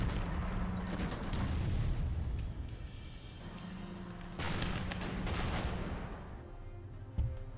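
Artillery fire in the WWII strategy game Panzer Corps, two long rumbling booms with rolling, gravelly tails, fairly loud and with no one talking over them.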